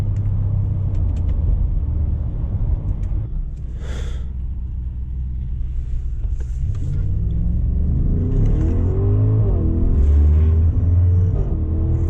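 A deep, muted exhaust rumble from a 2022 Audi SQ7's V8 drones steadily, swelling as the engine climbs in pitch and then settles back.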